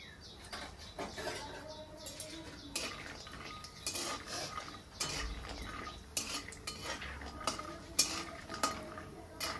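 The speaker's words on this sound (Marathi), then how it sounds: "अगोदर मी शेंगा तळून घेते तेलामध्ये थोडं" Peanuts frying in a little oil in a pan give a faint, low sizzle that sits beneath frequent metal spatula scrapes and clinks against the pan, with no talking.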